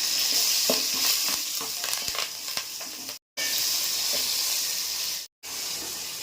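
Curry leaves and green chilies hit hot oil for a sambar, giving a close, bright sizzle and crackle with stirring clicks, broken by two brief moments of silence.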